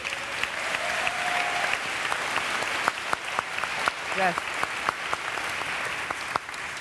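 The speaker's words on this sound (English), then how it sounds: "give one more round of applause" An audience at an evening talk applauds steadily for several seconds, a dense clatter of many hands, with a brief voice heard under the clapping.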